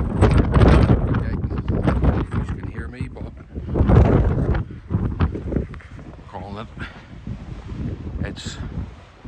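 Strong wind gusts of roughly 40 to 50 mph buffet a sub-zero wild camp on a mountain, roaring against the microphone and tent in loud surges while someone talks close by.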